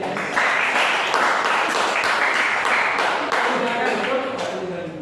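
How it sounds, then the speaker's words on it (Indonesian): Classroom applause for a student presenter, a steady wash of many hands clapping at moderate level, with voices faintly beneath. "tepuk tangan buat Habib"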